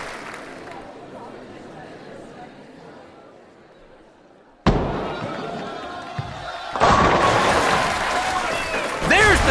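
A bowling ball slams into the pins for a third straight strike at a PBA regional pro tournament, a sharp crash followed by rising applause and crowd chatter that swells and holds to the end.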